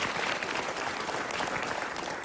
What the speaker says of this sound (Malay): Tepukan untuk semua yang hadir pada malam ini.